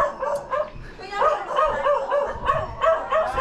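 A dog barks repeatedly in a steady rhythm, close and fairly loud, with yelping tones over a low background rumble.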